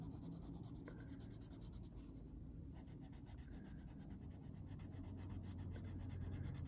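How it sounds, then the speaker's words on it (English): A Neocolor II wax crayon pressed hard and rubbed across paper gives a close, faint, steady scratchy scraping in rapid back-and-forth strokes, with no talking. "Putting a lot of pressure on this pencil."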